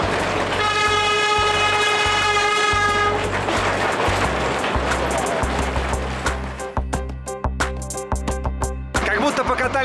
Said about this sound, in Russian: сейчас можно совершить поездку до ближайшей деревни на самом настоящем старинном поезде